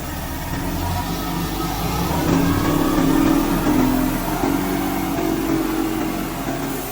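An engine revs as the throttle is pressed on a Titan series remote-controlled machine, a steady mid-pitched hum that swells and holds at moderate loudness with no talk over it.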